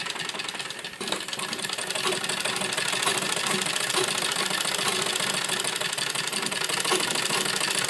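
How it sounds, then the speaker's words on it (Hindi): A sewing machine runs continuously, stitching along the edges of blouse fabric layered with buckram, a steady loud mechanical whir with a rapid needle rhythm throughout, no voices. "अब किनारे किनारे पर यहाँ सिलाई लगाएंगे।"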